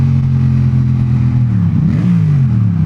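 A Yamaha XSR700 motorcycle with an aftermarket exhaust drones steadily, then blips and revs on a downshift in a small tunnel with a brief crackle as the pitch rises and falls, loud and close.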